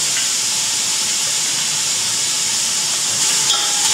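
Onions and ginger sizzle in their own juice with no oil, for the Nigerian dish Gwote Acha, a steady close hiss and crackle running unbroken throughout.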